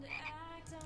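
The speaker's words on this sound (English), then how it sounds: "Why is there frogs?" Frogs croak in a Minecraft Crazycraft world, a few soft, throaty calls close by with faint ambient background and no talking.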